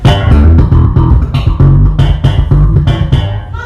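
Finger-style bass guitar with the mid-low EQ boosted and the brightness turned down plays a steady run of plucked notes, loud and close, with a warm, round low end and no talking.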